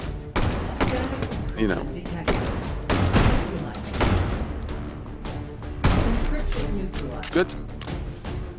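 Shotgun blasts in a VR shooter game, several loud booming shots at irregular intervals across the clip, mixed with thuds and clatter, while someone talks briefly over the action.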